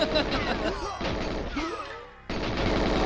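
Dense gunfire in GoldenEye 007 (1997) on the Nintendo 64, rapid repeated shots with crashing impacts and a short pause before another burst.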